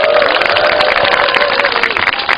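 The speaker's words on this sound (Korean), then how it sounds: "여러분 박수 한번 쳐주세요." A crowd claps at an outdoor weekly rally in Korea, dense sustained applause loud and close, with a faint tonal voice or shout running through it.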